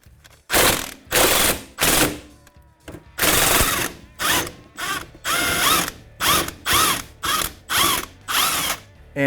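A hand ratchet works loose the tight lower shock bolt on a 2018 Dodge Charger. It gives loud, close bursts of rapid clicking, repeated in regular strokes.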